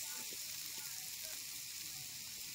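Onion frying in a pan while making dried-fish chutney gives a steady, close sizzle that runs unbroken for the whole stretch, with faint scraping underneath.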